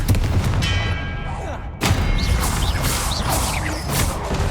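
A Confringo blasting spell bursts in Hogwarts Legacy, delivering a loud, sudden explosive boom amid dense combat noise and other spell effects.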